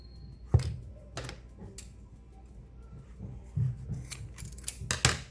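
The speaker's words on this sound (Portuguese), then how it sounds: "eu vou primeiro cortar um pedaço da corda do tamanho que eu quero" Scissors snip through a piece of rope, several sharp, close cuts spaced irregularly, with a quicker cluster of clicks and snips toward the end and no talking.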